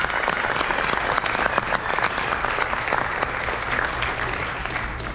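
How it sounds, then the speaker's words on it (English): A large audience at a graduation ceremony applauds the graduates: dense, loud, continuous clapping that fills the whole stretch, with a faint murmur of crowd noise beneath it. "Everybody give a big round of applause to our graduates."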